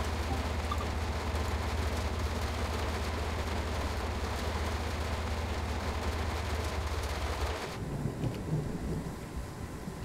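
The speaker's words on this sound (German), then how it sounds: "Jetzt muss ich auch noch in den Regen gehen." Steady rain hiss with low rumble in Train Sim World 2 on the Ruhr-Sieg Nord route, a constant wash that drops off abruptly near the end, leaving quieter ambience.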